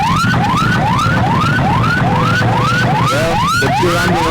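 An ambulance siren wails loudly and close in a repeating rising sweep, roughly two cycles per second, while stuck in city traffic with no way through.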